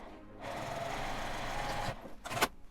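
Sewing machine stitching the zipper seam of a fabric pocket tissue case, running in a steady whirring burst for well over a second, then stopping with a few short mechanical clicks and a final quick stitch.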